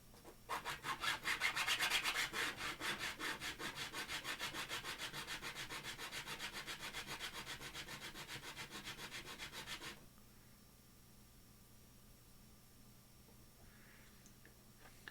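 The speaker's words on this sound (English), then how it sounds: "I'm gonna have to sand these just a little bit because they are a little tight in there" Wooden parts rubbed by hand with 80 grit sandpaper, a fast rhythmic series of close scratchy back-and-forth strokes for about ten seconds, then quiet.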